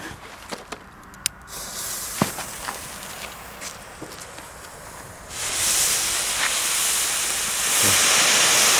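A Funke Feuerfalke firework with brocade and silver crackle effect going off outdoors: scattered sharp pops and hissing bursts, then a loud, sustained fizzing spray that builds toward the end.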